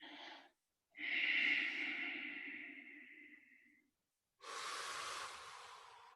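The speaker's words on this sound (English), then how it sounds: "I want you to take a deep breath in." A person takes a deep breath in, a long close airy inhale after a brief breath, followed by a pause and a strong rushing exhale.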